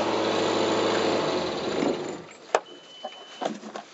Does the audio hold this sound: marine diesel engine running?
yes